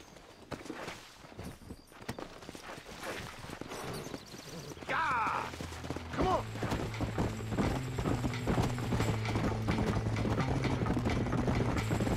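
Horse hooves clip-clop in a steady walking rhythm in the video game Red Dead Redemption, with mechanical game sounds and a low droning hum rising in the background.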